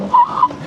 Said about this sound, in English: I like hitting the skids.